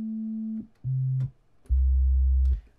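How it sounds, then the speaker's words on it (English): Pure sine tones from the ReaSynth virtual instrument in Reaper: three steady, clean sustained notes, each a little lower than the last, separated by short gaps, with no other sound. "that is just a sine wave"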